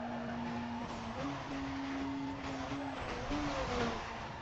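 A car races at high speed in Need for Speed Most Wanted, its engine holding a steady, loud whining drone with slight pitch shifts and a rushing wash of road and wind noise.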